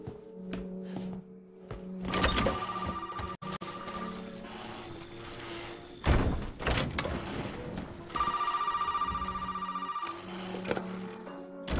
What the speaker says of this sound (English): We're going to trigger the phone